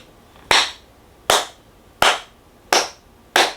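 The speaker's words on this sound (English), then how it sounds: "That's hand claps, dog." Five sharp, evenly spaced hand claps, each about three quarters of a second apart, ring out alone with a short reverberant tail.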